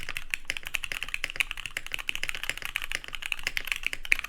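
Rapid, steady typing on a Daji Ocho Cuatro mechanical keyboard fitted with GMK keycaps, a close, dense patter of crisp keystrokes with no pauses and no talking.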